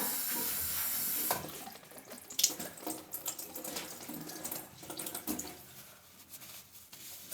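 Water runs steadily from a tap for a second, then splashes and trickles irregularly into a sink, fairly close and with no voices.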